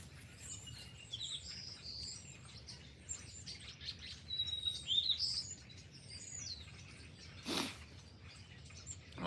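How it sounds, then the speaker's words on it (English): A flock of birds chirps and twitters in the trees, faint and fairly distant, with scattered overlapping calls, a brief clearer whistle in the middle and a louder burst near the end. "Dude, these birds are crazy right now."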